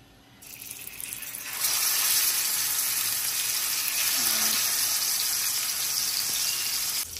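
Food hits a hot griddle pan and breaks into a loud, steady sizzle of frying after a quieter start, continuing evenly nearby with no talking.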